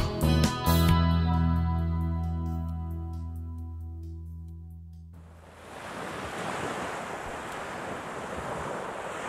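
Ocean waves wash in a steady, broad hiss with wind rumble, rising in after a sustained musical chord fades out, continuing evenly to the end.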